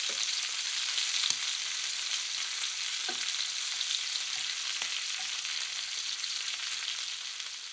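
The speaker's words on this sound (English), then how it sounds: "Shrimp cook really quickly. The best thing you can do when you're cooking shrimp is to not go anywhere. Put them in the pan, keep an eye on them." Shrimp searing in a hot pan give a steady, even sizzle from start to finish, with a few light clicks and taps of a utensil scattered through it and no voices.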